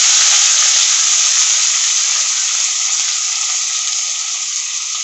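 Chopped onions go into hot oil with mustard seeds, giving a loud, steady sizzle and hiss throughout that eases off slightly toward the end.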